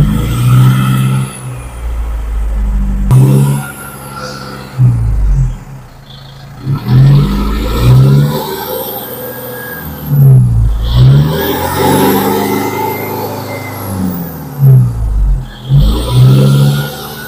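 A diesel car engine being purged with a homemade cleaning-fluid bottle setup is revved repeatedly, loud and close, with several sharp bursts of acceleration separated by falls back to idle.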